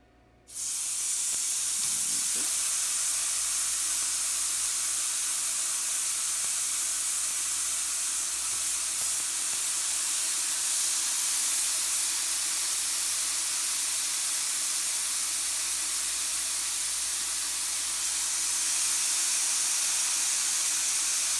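Pork cooking on a preheated indoor electric grilling machine for Korean BBQ, giving a steady, continuous sizzling hiss that starts abruptly and holds at an even level throughout, with no talk over it.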